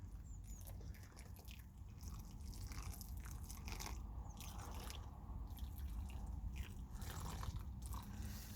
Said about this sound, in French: on prend notre eau, on vient la déverser,